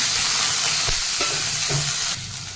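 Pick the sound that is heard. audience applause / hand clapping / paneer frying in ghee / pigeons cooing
paneer frying in ghee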